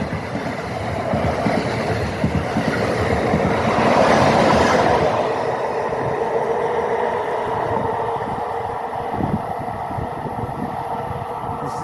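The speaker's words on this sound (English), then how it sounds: "Okay, we got a train coming along this rail right here." A train rolls past on the Northeast Corridor rail line, a steady loud rumble with rhythmic clatter that swells near the middle and then holds as the cars continue by.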